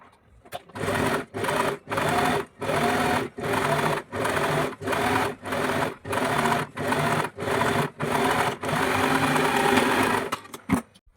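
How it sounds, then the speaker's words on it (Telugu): A sewing machine runs in repeated bursts of stitching on blouse fabric, roughly a dozen evenly spaced runs separated by short pauses, close and steady, with no voices. "ఇప్పుడు పైన ఒక స్టిచ్ చేసుకోవాలి"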